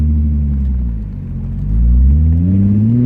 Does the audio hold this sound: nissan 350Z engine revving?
yes